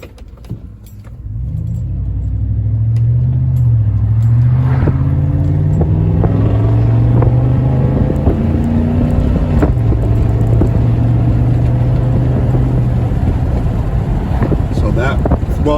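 A 2010 Chevy Avalanche LT truck accelerates on a main road, its engine rising steadily in pitch through smooth gear shifts, with road and wind noise mixed into a loud, continuous cabin drone.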